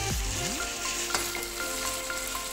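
Ginger and garlic paste sizzles in a pan with browned onion. The close, steady frying crackle follows a brief clatter as it goes in.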